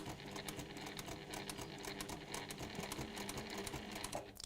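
A sewing machine runs steadily, stitching small, fine toy pieces in fabric before they are cut out, with a continuous fast mechanical chatter close by and no talk.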